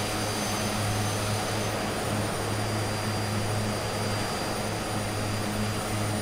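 Steady, loud aircraft engine drone heard from inside the cabin of a small plane in flight toward Mount Ararat, a continuous broadband roar with a low engine hum running throughout, no speech.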